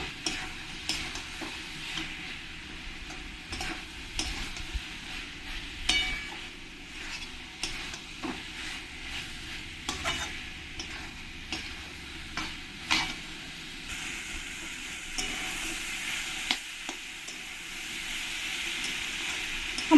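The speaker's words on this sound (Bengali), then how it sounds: "আমি যে সয়াবিনগুলো ভেজে রেখেছি সয়াবিনগুলো দিয়ে দেবো দিয়ে সব কিছুর সঙ্গে মিশিয়ে নেবো" Fried soybeans and potatoes stirred together in a masala in a pan, a long run of repeated scraping and clinking strokes over a low steady sizzle, close, with no voices.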